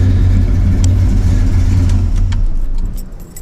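A Pontiac LeMans or Chevy C10 engine idling loudly with a low rumble, then being switched off as the sound drops away near the end with no run-on.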